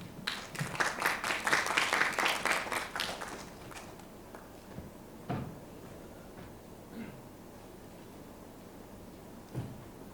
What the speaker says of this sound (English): Please give Joseph a round of applause